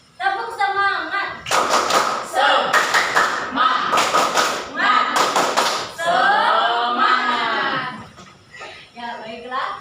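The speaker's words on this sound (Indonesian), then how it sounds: "Tepuk semangat tahu ya? Kayak gini. Tepuk semangat." Classroom group clapping the tepuk semangat, several bursts of loud rhythmic hand claps alternating with a teacher's speaking voice and the group chanting along.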